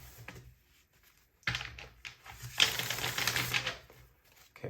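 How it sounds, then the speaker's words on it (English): Dice for astrology readings rattle and tumble across a surface in a tarot setting, a short clatter that swells in a louder second burst before settling, with no one talking. "or just roll the Astro dice."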